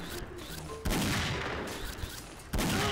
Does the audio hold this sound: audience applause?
no